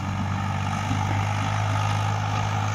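A Swaraj 855 FE tractor pulling a 16-disc harrow runs steadily at about 1500 rpm in low gear, a loud, even diesel drone with a strong low hum and no breaks.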